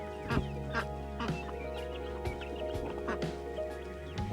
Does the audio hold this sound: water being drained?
no